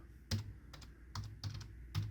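Quiet, sparse keystrokes on the keyboard of a Ryzen 7 Beelink mini PC, about five separate clicks spaced unevenly while someone types with one hand, close and alone.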